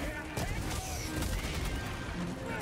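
Grenade blasts and gunfire in the video game Helldivers 2, a dense, continuous barrage of shots and explosions filling the whole stretch with a few voices mixed in underneath.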